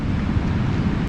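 Strong wind roars in a loud, steady rush across the microphone on a large open sea beach, with no voices in the short burst.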